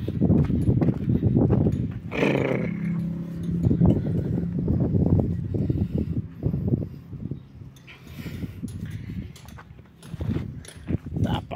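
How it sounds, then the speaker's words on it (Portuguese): Cattle, including an agitated wild ox, shuffle and clatter into a slaughterhouse corral, with thuds, hoof knocks and metallic clinks close by. Low animal noise runs throughout. "O boi brabo chegou agora aqui."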